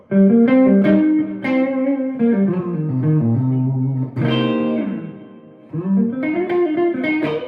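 Electric guitar played through an echo delay pedal with its intensity turned down, sustained chords and single notes ringing out with soft repeats trailing behind, loud and close with no talking.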